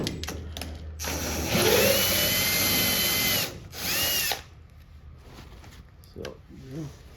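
A DeWalt drill with a 3/16 bit whines loudly for a few seconds while boring into a lower front fender bolt, then stops, with a brief second burst and someone speaking afterward.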